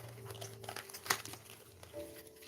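A large tarot card deck is mixed by hand, giving soft crinkling and sliding card noises with one sharper snap near the middle, close and fairly quiet.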